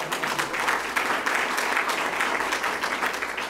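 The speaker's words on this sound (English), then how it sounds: "We'll clap for those people at that sort of center table there." Audience applause at a State Treasurer's event, a steady wash of clapping throughout, moderately loud and unbroken, with no voices over it.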